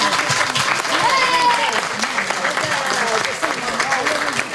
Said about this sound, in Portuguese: Parabéns para ela, uma salva de palmas.